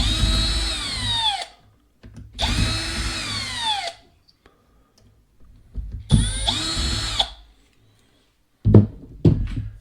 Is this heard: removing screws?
yes